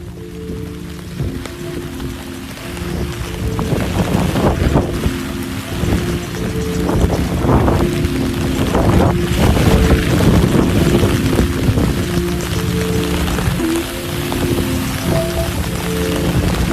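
Steady heavy rain pours down on a very rainy suburban day, a dense continuous hiss of drops on surfaces with gusty wind noise, loud and close, while some background music plays underneath.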